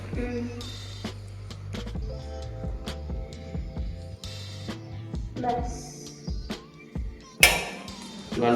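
Dishes and cutlery clink and clatter while dinner of rice, chicken and potato curry, fried potatoes and salad is served, scattered sharp knocks and ringing taps with a louder clatter near the end, a voice talking at times.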